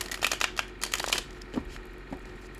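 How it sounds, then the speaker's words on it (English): Oracle cards are shuffled nearby in a few quick bursts of papery flutter, then the sound tapers into a couple of soft, isolated taps. "I need to shuffle that a couple more times."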